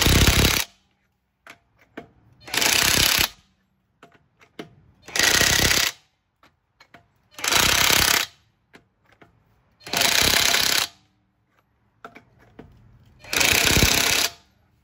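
Impact wrench tightening the wheel lug nuts on a Cadillac XT5 during a front brake job: six loud, hammering bursts of about a second each, evenly spaced with short quiet gaps, close by and heard alone.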